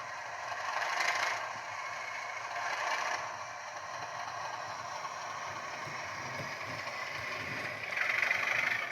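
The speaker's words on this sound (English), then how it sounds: "Here's the earlier sound chip, more basic, but still does the job. Got the flange squeal." A model locomotive's basic sound chip gives a steady, thin metallic flange squeal that keeps going evenly, swelling slightly at moments, over a soft rolling rumble from the running loco.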